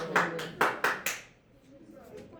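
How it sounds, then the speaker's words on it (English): A few people clap their hands during a casual podcast recording, four sharp close claps in quick succession, then quieter room noise with faint scattered sounds. "What's the clapping for?"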